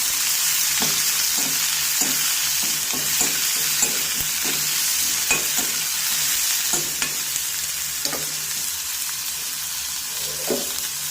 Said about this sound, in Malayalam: ഇതിലേക്ക് ചെറുതായി അരിഞ്ഞു വെച്ചിരിക്കുന്ന പച്ചമുളകും ഇട്ട് കൊടുക്കാം എല്ലാം കൂടെ ഒന്ന് വഴറ്റിയെടുക്കാം